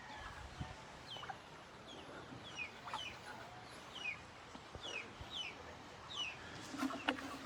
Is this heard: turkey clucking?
yes